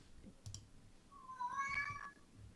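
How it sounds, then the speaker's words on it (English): A pet cat, Winston, lets out a single drawn-out, wavering meow indoors, fairly faint, with soft clicking of computer keys around it. "The cats are really yelling today."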